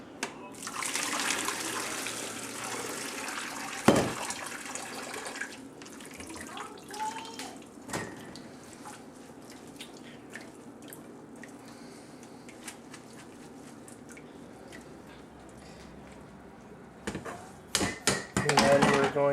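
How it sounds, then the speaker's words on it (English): Cooked spaghetti noodles being strained, with water pouring and draining steadily through a colander under occasional clatter and sharp knocks, ending in a burst of louder splashing. "we're gonna strain them."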